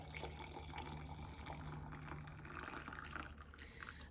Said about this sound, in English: And then we are going to pour our hot water on top.